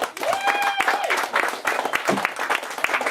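Small comedy club audience claps briskly as a comedian is introduced, close and lively, with a few whoops and raised voices rising over the dense clapping.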